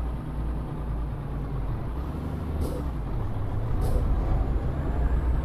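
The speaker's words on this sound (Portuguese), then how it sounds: "vamos ligar o caminhão" Truck engine starting up in Euro Truck Simulator 2, a low, steady diesel rumble punctuated by two short bursts of air-brake hiss, with no speech.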